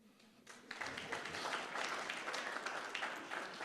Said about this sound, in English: That requires a hand clap.